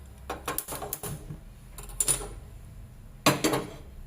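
A metal kadai set down on a gas stove in a home kitchen, a handful of close metallic clanks and scrapes in short clusters, with a louder knock near the end and quiet gaps between.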